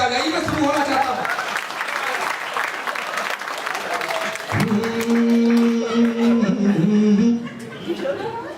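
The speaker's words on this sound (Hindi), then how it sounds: "आप भी धीरे धीरे तालियों पे आ जाइए" A comedy poetry show audience applauds at a Hindi kavi sammelan, a dense sustained clatter of many hands with a few chuckles, while a voice speaks and then holds a sung or chanted line over it.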